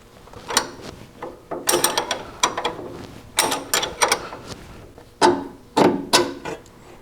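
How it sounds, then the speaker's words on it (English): A wrench and an Allen wrench loosen the nut on a sway bar link of a lifted Toyota. Close metallic ratcheting clicks and clanks come in irregular clusters, with short gaps between them. "put a wrench on the nut, and an Allen wrench goes in the end of that bolt coming out of the link"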